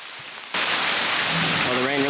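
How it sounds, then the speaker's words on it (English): Heavy rain suddenly starts pouring in a park, a dense, loud, steady hiss of drops that follows a quiet moment, with a faint tonal sound rising underneath toward the end. "the rain really started coming down now"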